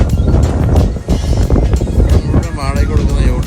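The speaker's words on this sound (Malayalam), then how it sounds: "ബോട്ട് അനങ്ങി തുടങ്ങി." A boat pulls away from a New Zealand mooring lined with rental yachts, its engine and the rushing water forming a steady, close rumble buffeted by wind, with a voice briefly speaking near the end.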